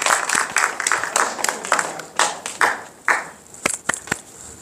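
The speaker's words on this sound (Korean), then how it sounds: "뜨거운 환영의 박수를 부탁드립니다." A lecture audience claps in welcome for a speaker at a talk on character education: distinct hand claps, scattered and uneven, that come in bursts and thin out toward the end.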